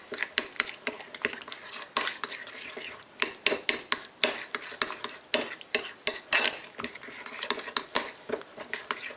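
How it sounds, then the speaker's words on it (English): Tartar sauce being mixed with a spoon in a bowl, a quick series of sharp clinks and scrapes against the bowl in an irregular rhythm, close and fairly loud with no talking. "Mix it up."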